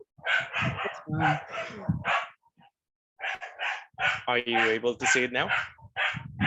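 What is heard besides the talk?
dogs barking outside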